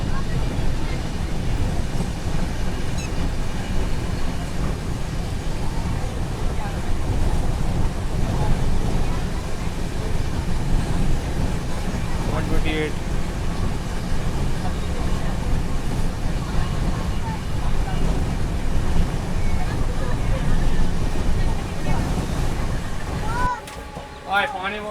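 The 12380 Jallianwala Bagh Express runs at about 127 km/h between Jalandhar and Delhi, a loud, steady interior rumble and rattle of the moving coach with wind roar throughout and brief squeals near the end.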